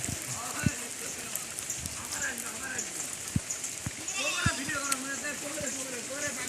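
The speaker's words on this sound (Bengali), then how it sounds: "বহুদিন পর বৃষ্টি হচ্ছে" Rain falls steadily outdoors over fields after a long dry spell, a constant soft patter with scattered drops. A person talks over it and sheep bleat in the background.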